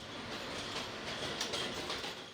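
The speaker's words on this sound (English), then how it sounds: "On the night train bound for Manhattan" A New York City subway train bound for Manhattan at night runs along the tracks with a steady, rushing rumble and faint clatter of wheels, continuous and without voices.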